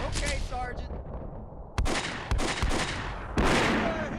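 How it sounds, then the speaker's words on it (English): Machine gun nest firing in the Combat Mission: Beyond Overlord war game, sharp broadband bursts hitting after a short lull, with sustained loud battle noise. "now the machine gun nest opens up"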